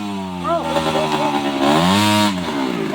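Motorcycle engine revving hard close by, its pitch climbing and falling in repeated surges with a rough, buzzing tone, while voices speak over it.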